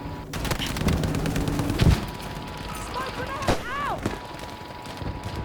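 Gunfire fills a Battlefield V multiplayer match, with dense machine gun bursts and scattered shots close and loud, and some distant booms and whizzing sounds, while players talk over it.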